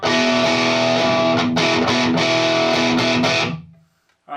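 Heavily distorted electric guitar chords through a punk pedal voiced after an EVH 5150 6V6 amp and 5150 cabinet, loud and sustained for about three and a half seconds with brief chopped breaks, then ringing out to silence.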